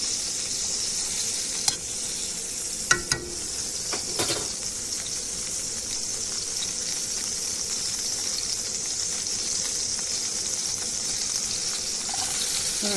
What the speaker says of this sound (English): Alright, so we're going to add our butter to our pan.